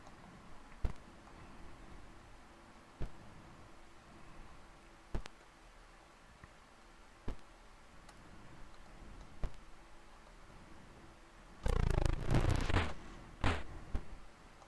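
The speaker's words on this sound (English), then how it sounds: "That heartbeat sound you can hear in the background, by the way, that is the sound of your life force ticking away." In the Intellivision game Tower of Doom, a soft, regular heartbeat-like thump ticks about every two seconds as the life force drains, faint and alone, before a brief louder burst of game noise near the end.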